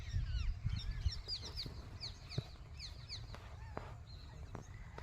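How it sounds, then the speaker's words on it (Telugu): Bird calls near farm fields at a farmland, heard as scattered high chirps and squawks that come and go over a steady low rumble. The calls are moderately distant and overlap with clucking fowl sounds. "వింటున్నారు కదా, చిలుకల సవ్వర్లు."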